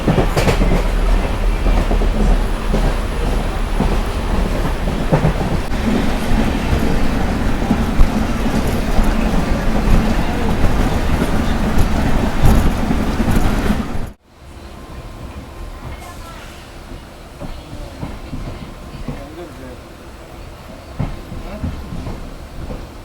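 A passenger train on the Rajapalayam to Bengaluru route rolls along with a steady, loud rumble and rhythmic wheel clatter. The sound drops abruptly to a quieter interior hum partway through and stays there.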